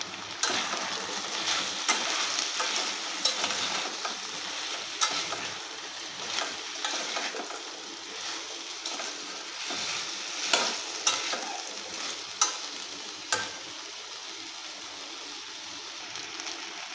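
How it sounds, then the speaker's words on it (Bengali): Chopped potato and pumpkin fry in a pan with a steady sizzle, punctuated by repeated scraping and clattering as a utensil stirs them, close and clear with no speech. "এবারে দিয়ে দেব কেটে রাখা আলু ও কুমড়ো।"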